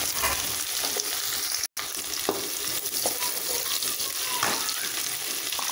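Shallots and green chillies fry in hot oil with mustard seeds and cumin for an egg kuzhi paniyaram kulambu, giving a steady, close, crackling sizzle with stirring scrapes and one brief dropout early on.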